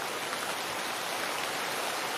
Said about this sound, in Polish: Ale pada